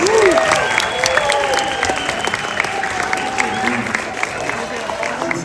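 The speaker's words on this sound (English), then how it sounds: "let's give a big round of applause to John May and his family at Ark Adventures" Applause from a crowd at a science museum event for John May and his family of Ark Adventures: steady clapping that fills the room, with a voice and some tonal sounds rising faintly beneath it.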